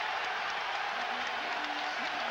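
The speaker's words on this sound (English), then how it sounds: "This Miami crowd now on their feet." A Miami college basketball crowd on its feet cheering gives off a steady, loud roar of voices and applause with no letup, heard from within the arena.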